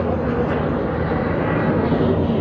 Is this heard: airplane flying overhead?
yes